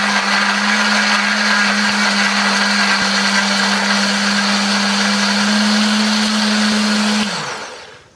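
An electric blender grinds chili, turmeric, ginger, shallot, garlic and candlenut with a little water into a spice paste, a loud steady motor whir that holds its pitch for about seven seconds and then winds down and stops.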